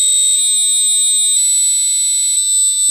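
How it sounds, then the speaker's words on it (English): An Arduino ultrasonic-sensor theft alarm beeps loudly with a shrill electronic buzzer tone, sustained and pulsing roughly once per second, alone with no other sound. "if I put my hands over this ultrasonic sensor, it starts beeping"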